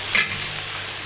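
Okra for a dhaba-style bhindi masala fries in a pan, giving a steady close sizzle with a brief stirring scrape near the start.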